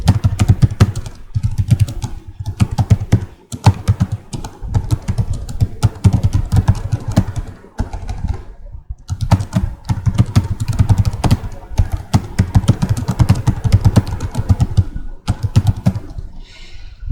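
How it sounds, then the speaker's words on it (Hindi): Fast, continuous clicking of a computer keyboard in Microsoft Word, close and loud, with short pauses between bursts of keystrokes. "ये हम टाइप कर रहे हैं।"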